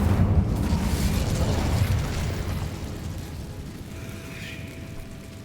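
The Incendio fire spell in Hogwarts Legacy erupts in a loud, roaring whoosh of flame that fades into a lingering crackling rumble, with a faint tonal shimmer near the end.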